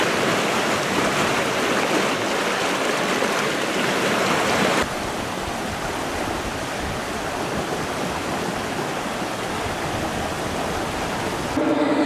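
A mountain river flows between an upper and a lower waterfall lake, a loud, continuous close rush of water that drops a little in level partway through and swells again at the end.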